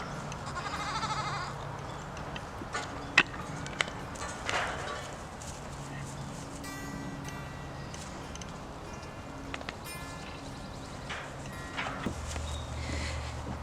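Young male goats bleating outdoors on a farm, several scattered calls at moderate distance over a busy background with hoof clatter and movement noise, no talk.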